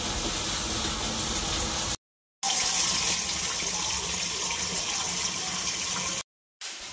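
Water runs from a pipe fed by a motor pump into a barrel, a steady rushing fill broken by two brief silent gaps.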